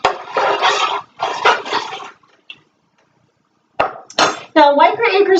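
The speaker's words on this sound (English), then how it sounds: "and then we're going to stir." A spoon clinks and scrapes in a bowl while cumin, chives and black pepper are stirred in for biscuits and dumplings: two short bursts of mixing, a pause, then a voice speaking.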